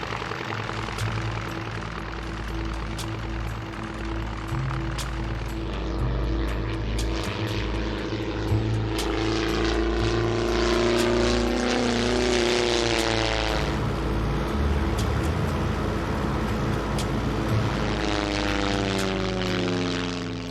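A propeller airplane flies toward the remote island communities of Penobscot Bay, its engine a steady, loud droning hum with a pulsing beat and shifting pitch, sustained close-up for the whole stretch with no talk.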